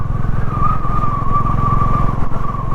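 A 2023 Honda CB 350 Highness motorcycle rides along a rough, damaged highway between Jaipur and Delhi, its single-cylinder engine thumping in a loud, steady, rapid pulse close to the microphone, with no talking.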